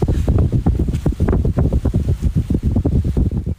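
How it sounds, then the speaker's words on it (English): Strong, gusty wind roars and buffets a microphone outdoors in Dallas, Texas, on a cloudy April day, with loud, uneven rushes and no voices. "it sounds awfully windy"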